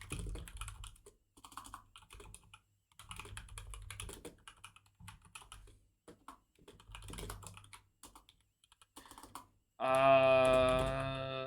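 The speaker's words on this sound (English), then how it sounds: "my typing has been so bad because I haven't been on my PC constantly" Fingers tapping on a PC computer keyboard in bursts of quick clicking keystrokes, close and fairly quiet with pauses between runs, ending in a loud sustained tonal sound.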